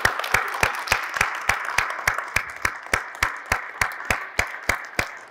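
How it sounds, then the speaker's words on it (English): An audience applauds students at a school pie-in-the-face fundraiser, with steady group clapping and sharp regular claps standing out, loud and continuous throughout with no talking. "Let's give them a huge round of applause first."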